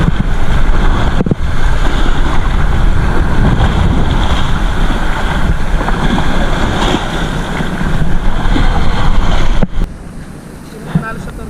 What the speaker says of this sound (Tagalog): Malakas ng alon.